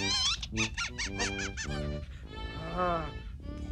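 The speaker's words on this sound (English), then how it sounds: "A squeaky toy." A squeaky toy squeaks in a run of quick, sharp, pitched bursts, then gives a longer drawn-out squeal, close and clear, in a 1995 children's TV episode.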